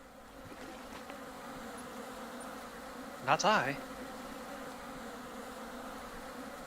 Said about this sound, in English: Oh, I think those are mosquitoes.